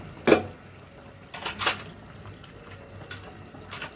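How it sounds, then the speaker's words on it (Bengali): A metal pressure cooker lid is fitted onto the pot while chicken curry cooks, giving a few sharp clanks and scrapes spaced over several seconds in a quiet kitchen. "এখন প্রেসার কুকারের ঢাকনাটা লাগিয়ে দিচ্ছি"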